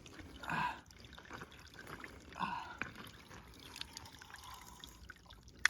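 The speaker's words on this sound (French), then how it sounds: "on a enfin trouvé un cours d'eau" Water in a small stream trickles and splashes faintly, with a few brief louder gurgles over a quiet outdoor background.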